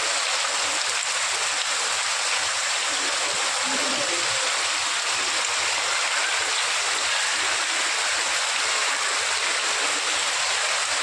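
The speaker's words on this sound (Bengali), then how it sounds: "আল্লাহর রহমতের বৃষ্টি হচ্ছে" Steady rain falling, a dense continuous hiss of drops with no breaks, even in loudness throughout.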